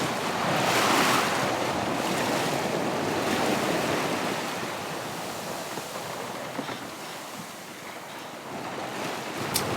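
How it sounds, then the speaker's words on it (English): Steady broadband wind and ocean surf rush around a sailboat far out in the mid-Atlantic at night, loud and continuous, easing slightly partway through, with no talk. "The wind is starting to drop"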